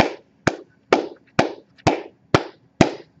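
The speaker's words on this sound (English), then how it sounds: "And what you do is you clap." Seven sharp hand claps at a steady, even rhythm, each about half a second apart, loud and close, keeping time for a math chant with no voice over them.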